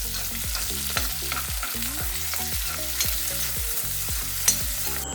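Shallots and onion sauté in a hot pan, with a continuous frying sizzle broken by repeated scraping strokes of a spatula, near and steady with no talking.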